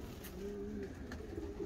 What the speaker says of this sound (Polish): stoimy tutaj koło gołębi młodych